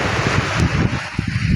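Strong wind roars steadily, buffeting close up in loud, rough gusts with no clear voices.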